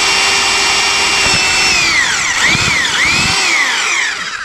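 A power drill boring a hole through a wood piece, a loud close whine that rises and dips in pitch as the bit bites and slows, then trails off at the end.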